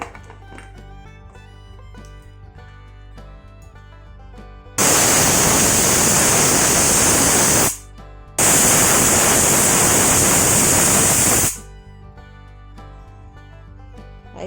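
A pressure cooker whistling while cooking eggplant dal with tomato: two loud, hissing steam blasts of about three seconds each, separated by a short gap, over quiet kitchen background.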